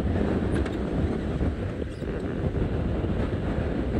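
Strong wind buffets the open vehicle on a safari drive among guarri trees, a dense, steady roar of rumbling gusts that fills the whole stretch with no voices.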